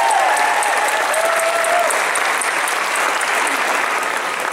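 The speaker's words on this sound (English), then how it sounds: "I'd love to give them another round of applause." A graduation ceremony crowd gives faculty a sustained round of applause, thick even clapping at a loud steady level, a faint whistle or cheer rising briefly early on before the clapping tapers slightly at the end.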